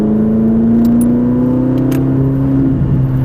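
A Ferrari 458 on track at the Mettet circuit in Belgium roars loud and close under throttle, its engine note climbing steadily in pitch, then dipping briefly near the end as the drive continues.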